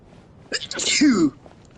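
A single sharp human sneeze bursts out loud and close, a quick intake followed by a harsh explosive burst, in a quiet indoor setting.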